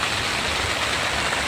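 Afternoon rain falls steadily on a farm field, a dense, even hiss of drops that stays constant and fairly loud with no voices.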